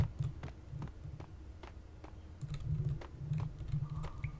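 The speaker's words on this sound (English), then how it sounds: "I don't know how loud my keyboard is." Computer keyboard keys clatter in quick irregular bursts while gaming during a Max Payne stream, close and moderately loud over a low steady hum, with no talking.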